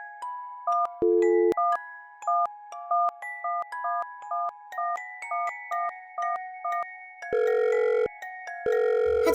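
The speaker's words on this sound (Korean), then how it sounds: "신호음만 계속 들릴 뿐 남편은 전화를 받지 않았고" Telephone ringback tone from a hotel room phone, a call to a husband going unanswered: repeated electronic beeping tones in steady cycles, clear and alone with no voices.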